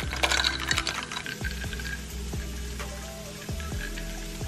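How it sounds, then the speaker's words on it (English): Spoon stirring cold brew coffee mixed with almond milk and oat milk hazelnut creamer in a glass, a close, continuous liquid swirl with light clinks throughout. "A little stir."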